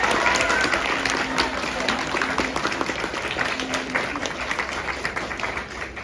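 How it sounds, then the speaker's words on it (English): Students at a school gathering in Carbon Hill give the visiting state governor a big round of applause, dense steady clapping with sharp individual claps, loud and close, lasting the whole stretch. "Everybody give Governor Ivey a big round of applause."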